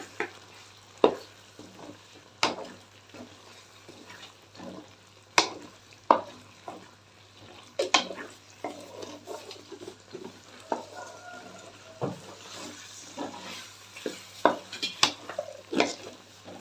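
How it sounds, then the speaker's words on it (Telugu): Okra masala curry is stirred in a pan, with repeated scraping and clattering of a spoon against metal at an irregular pace over a faint background sizzle. "అది బాగా కలుపుకుందాం"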